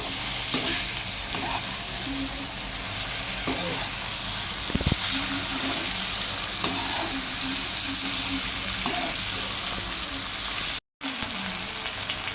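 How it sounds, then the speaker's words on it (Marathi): Mixed vegetables are stir-fried in a pan for veg rice, giving a steady close sizzle with repeated scraping strokes of the stirring spoon throughout and no talking. "व्यवस्थित परतून घ्यायचं आहे।"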